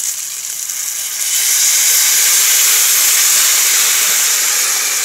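Fish pan frying in lemon juice gives off a loud, steady sizzle and hiss that swells after a second and holds close and continuous, with no voices.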